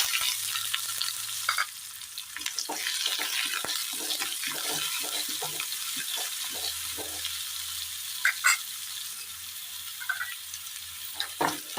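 Chopped shallots fry in hot ghee over popped mustard seeds for a jackfruit pulissery, giving a steady close sizzle throughout, broken by scattered crackles and the scrape of a stirring spoon.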